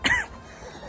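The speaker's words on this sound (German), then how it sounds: "Alter, ich habe immer noch so Husten." A single short cough near the start, followed by quiet background.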